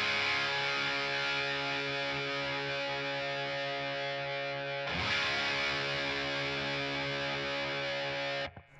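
An electric guitar runs through a homemade Rat distortion pedal with the distortion set to about 75%. One thick, gritty chord is held and sustained, then struck again midway, and rings loudly until it is cut off at the end.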